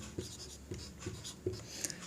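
Pen or pencil strokes writing numbers by hand on paper, a series of short scratchy marks close up, with no talking.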